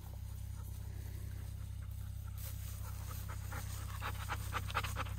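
A dog pants rapidly and steadily close by, over a constant low engine drone from a vehicle in a hayfield.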